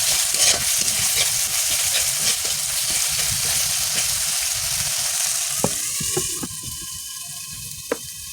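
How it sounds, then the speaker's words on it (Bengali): Turmeric, chilli, coriander, cumin and cardamom powders sauté in oil for aloo dum, with a constant loud sizzle and repeated spatula scrapes, then a few sharper clinks against the pan as the frying quiets. "এই মশলাগুলোকে আমি ভালোভাবে কিছুক্ষণ কষিয়ে নেব"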